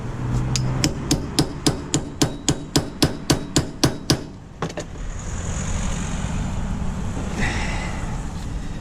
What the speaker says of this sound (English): always give these screws a little tap